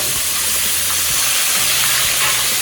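Pork chops fry in a pan with a loud, continuous close-up sizzle and crackle, with no one speaking.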